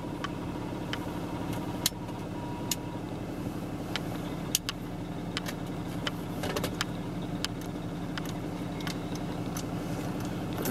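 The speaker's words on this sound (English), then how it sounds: "Vehicle started right up with two jump boxes, and it moves in forward and reverse." A 2012 Dodge Ram 5500 tow truck with a Miller tow body runs steadily, its engine a low continuous rumble heard fairly close, broken by scattered clicks and metallic clanks as it shifts and moves, with no talking.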